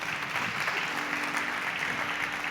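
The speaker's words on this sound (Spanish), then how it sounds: "Dale fuerte el aplauso al Señor." Church congregation clapping together in steady, dense applause filling the hall, a continuous even wash with no pauses and only faint voices beneath.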